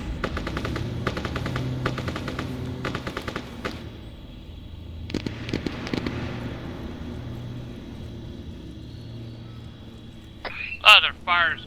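Gunfire during a training exercise: rapid bursts of automatic fire crackle in repeated volleys at mid distance, then fade into a low rumble before louder sharp sounds close at the end.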